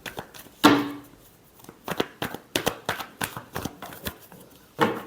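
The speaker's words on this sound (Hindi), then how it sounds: "Last shuffle." Tarot cards are shuffled close by in a string of quick riffling bursts and soft slaps, with one louder flurry near the start and another at the end. The shuffles are irregular, with short pauses between them.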